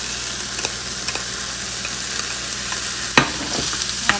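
Vegetables for a high-protein meal prep fry steadily in a pan with a constant sizzle, broken by a few scrapes and clacks as a utensil stirs them.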